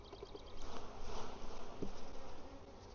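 Honeybees buzz around an open hive during an inspection of brood comb, a dense, close drone that swells and fades as individual bees pass near.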